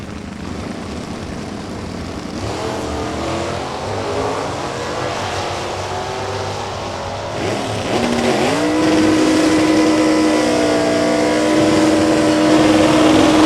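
A 350-powered Camaro launching down a drag strip, its engine note building steadily and holding a loud, sustained pull toward the end, heard without commentary.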